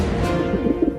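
A pigeon's low, throaty cooing, close and fairly loud, in a brief burst of soft rolling notes.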